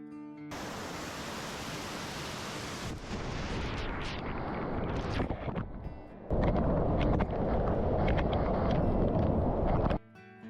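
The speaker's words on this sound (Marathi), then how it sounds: "धबधब्याजवळच्या दगडावर येऊन जवळूनच धबधब्याचा आनंद घेऊ लागलो" Vanalakshmi waterfall near Badlapur, heard up close from rocks beside it: a loud, dense roar of falling water that shifts in level as the microphone moves, with no talk.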